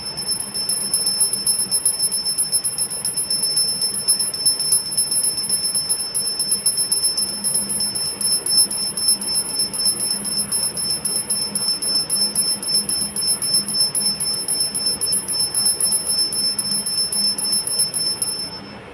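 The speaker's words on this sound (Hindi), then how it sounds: "घंटी बजानी।" A small brass puja bell rings continuously and steadily during a Hanuman aarti, a bright sustained metallic ringing with rapid repeated strikes, close and fairly loud, with no talk over it.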